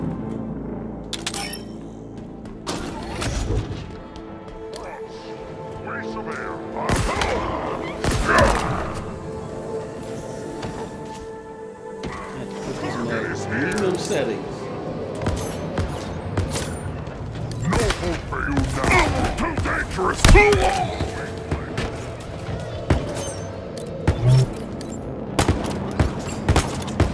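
Mangler pistol fire in the Halo Infinite campaign, irregular sharp shots and bursts scattered across a busy battle mix with booms and shattering, loud and close.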